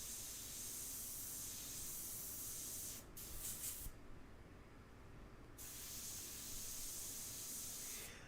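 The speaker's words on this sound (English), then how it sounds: "I'm just getting reacclimated with the painting and the airbrush here." An airbrush sprays paint in steady, continuous hissing bursts up close, briefly easing off in the middle before resuming.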